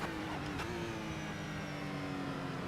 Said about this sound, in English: Now listen to the Corvette when I pass it.